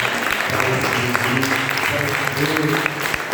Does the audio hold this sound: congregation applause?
yes